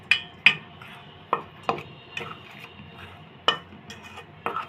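A utensil taps and scrapes against a steel bowl as dry bread ingredients, including powdered milk, are stirred together, giving a series of sharp metallic clinks spaced irregularly over faint background noise.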